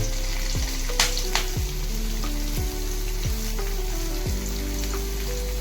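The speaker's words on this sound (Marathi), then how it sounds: "त्यात आता आपण लसूण टाकत आहोत. लसूण, मिरची" Garlic and chili hit hot oil with cumin in a pan, a loud steady sizzle throughout with a few clinks and stirring scrapes over it.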